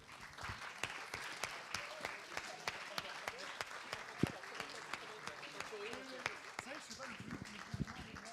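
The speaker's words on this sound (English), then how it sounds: "maybe a round of applause to everybody" Scattered clapping from a small group at a master's thesis defense rises and falls in a loose patter, with a muffled voice audible beneath it.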